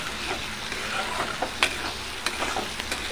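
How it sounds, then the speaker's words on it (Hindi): Masala fries in oil in a pan, sizzling steadily and closely, with intermittent scraping strokes of a spoon as it is stirred; no one speaks. "अब ये मसाला भी भुना रहा है अच्छे से"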